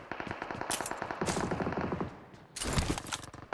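Gunfire in the video game PUBG rattles out in loud rapid automatic bursts, a long string of shots followed by a short pause and then another heavy burst.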